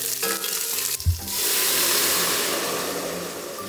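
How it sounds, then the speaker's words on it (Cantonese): Ginger slices and scallion pieces hit hot rendered chicken fat in a home kitchen pan, setting off a loud, steady, close sizzle after a brief clatter. "煎出油之後呢，就放薑片入去爆一爆佢先，然之後掉埋啲葱段落去都爆一爆。"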